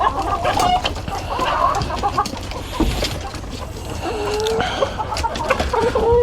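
Chickens cluck loudly and continuously at close range on a farm as they are let out of their coop in the morning, with a rooster among them and brief bursts of squawking mixed in.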